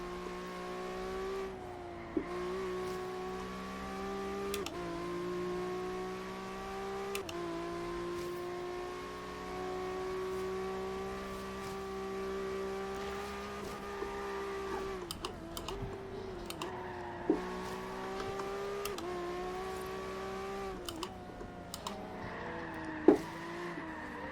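An Acura NSX engine in Forza Horizon 3 holds a steady droning hum that rises and shifts in pitch through gear changes, with a few sharp clicks and a faint, constant tone underneath.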